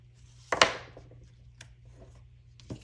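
An X-Acto knife slices paper along the edge of a card, a single crisp close-up cut followed by a few faint scratches in a quiet room.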